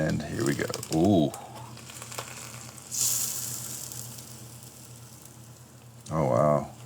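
Ribs and potatoes sizzle and crackle steadily in a hot pan, with brief bursts of voices talking over the frying at the start and end.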